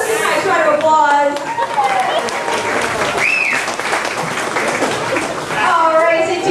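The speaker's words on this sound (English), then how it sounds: "Let's give a nice round of applause." Theme park audience applauds steadily at a studio backlot special-effects show, with a presenter's voice heard over the clapping at the start and again near the end.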